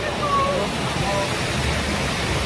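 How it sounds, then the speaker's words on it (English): Rushing water from the waterfall on the Shipwreck Rapids raft ride at SeaWorld San Diego makes a steady, close, full roar of spray that holds even throughout, with faint voices traced beneath it. "Here comes the waterfall."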